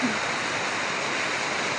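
Water leaking steadily in a flood-damaged space, running down along a side edge, gives a continuous broadband rushing hiss with no distinct separate drips.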